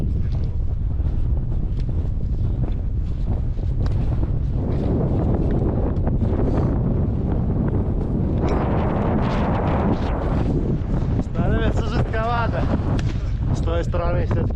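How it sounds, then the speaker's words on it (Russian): Strong wind buffets the microphone on a snowy mountain ridge in the Rocky Mountains during a blizzard, a constant low roar with gusts, loud and close, with people talking over it near the end. "той стороны все-таки подул сильный ветер."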